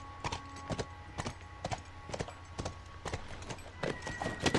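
Horse hooves clip-clopping in The Last of Us, a run of sharp, evenly spaced hoofbeats at close range, keeping a steady walking rhythm, with a faint undertone of game ambience and no talk.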